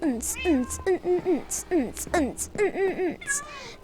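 Cats in a video game meow repeatedly, a quick series of short, bright, rising-and-falling mews close up, some overlapping, with faint background tones underneath.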